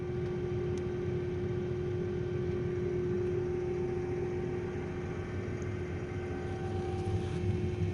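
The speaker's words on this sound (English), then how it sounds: "Yeah, that tractor's running over there." Tractor engine running steadily during a soybean harvest in a field, a constant low hum with a faint tonal whine, moderately distant and unbroken with no voices.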